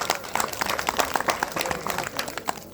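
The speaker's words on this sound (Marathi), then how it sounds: "एकदा तुम्ही जोरदार टाळ्या वाजवाव्या असं मला वाटतं" Audience applause at a village gathering, a dense patter of many hands clapping at close range, holding steady throughout.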